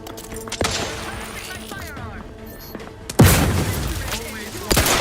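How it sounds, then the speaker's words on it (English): Explosions and gunfire in The Outer Worlds 2 video game, with scattered sharp shots and thuds followed by a loud blast and rumbling debris, ending in another hit, amid combat noise. "Explosion imminent!"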